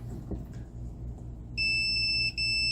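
A steady, high-pitched electronic beep from a circuit breaker tester starts partway through, nearly continuous with one short break, over a low background hum.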